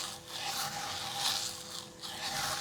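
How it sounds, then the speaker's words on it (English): Masking tape is pulled and pressed along a length of bamboo, giving a close, steady rasping rub that swells and fades in a few strokes with no voices. "I'm going to mask down the length of the bamboo"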